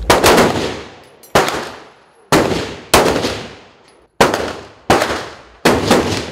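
Seven sharp pistol shots fired at a 25-metre standing target shooting competition, each a loud crack with a decaying echo, spaced irregularly about a second apart with no talking.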